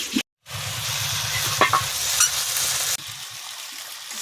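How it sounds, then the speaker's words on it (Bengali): Pumpkin, potato and drumstick vegetables sautéing with tomato in a pan for a prawn curry, a loud steady sizzle with spatula scrapes, briefly cut to silence near the start, then a slightly softer hiss after a sudden drop. "টমেটোটা দিয়ে দেবো, একটু চাপা দিয়ে ভালো করে কষে নেব।"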